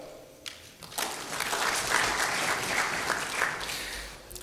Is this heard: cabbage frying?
no